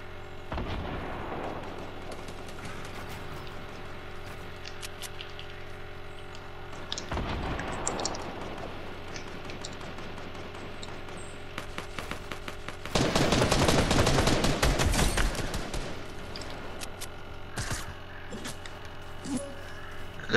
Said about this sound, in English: They're grenade launching.